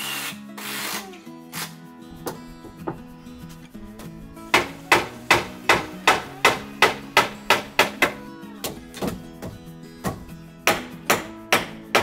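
Fasteners being hammered into deck boards on a large American-style deck, a close, loud series of sharp wooden strikes that starts sparse and then settles into a steady rapid rhythm of blows.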